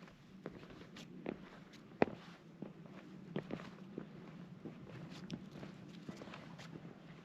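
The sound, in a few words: footsteps walking on sandstone slick rock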